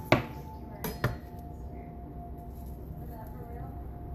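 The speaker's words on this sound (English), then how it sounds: "I'm going to cut it into like rings, half rings, because I cut the onion in half." A knife cuts a halved onion into half rings on a board with two or three sharp, close knocks near the start, followed by quiet room hum.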